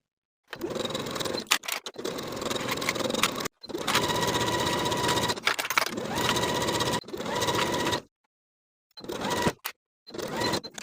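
A sewing machine stitches the raw edges of a knit ballet wrap sweater sash with a 3/8 inch seam allowance, running in several steady motor bursts separated by short pauses, close and loud with no talking.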